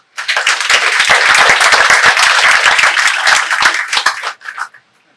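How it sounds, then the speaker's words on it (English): An audience at a small-town Louisiana centennial program gives a round of applause, a loud, dense burst of clapping that swells quickly, holds for several seconds, then tapers off with a few scattered final claps. "I think we owe them a round of applause"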